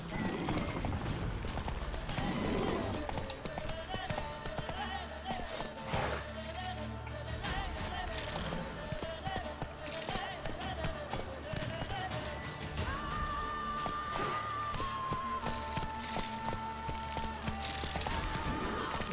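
Horse hooves clip-clop steadily during riding in The Witcher 3 video game, mixed under game music and ambient effects, with a person talking over parts.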